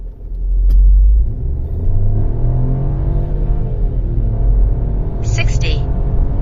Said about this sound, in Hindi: अब हम इस गाड़ी का 0 to 100 चेक करते हैं